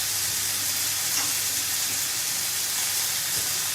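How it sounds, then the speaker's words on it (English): Chicken pieces sear in a hot pan with a steady, loud sizzle and hiss that holds evenly throughout, no voices over it. "So we're just going to sear them off."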